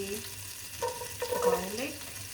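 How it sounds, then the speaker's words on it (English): Butter and a little olive oil sizzling in a pan, a soft steady frying hiss running throughout, fairly quiet and close, with a person talking over it partway through. "now we put butter and a little bit of olive oil on it so the butter won't burn"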